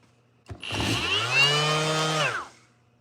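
A Ridgid power sander working a wooden cutting board with worn-out sandpaper, a close whirring motor that spins up, holds a steady rising whine for about two seconds, then cuts off, with no talking.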